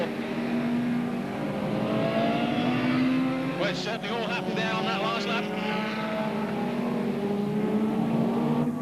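BriSCA F1 stock cars racing at Northampton, loud rumbling engines droning and revving with passing pitch sweeps, while a commentator talks over the racing.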